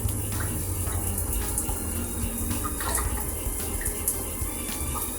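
Low-flow Niagara Tri Max showerhead spraying water at its 0.5 gallon-per-minute setting, a steady, continuous close hiss of fine spray with no talk.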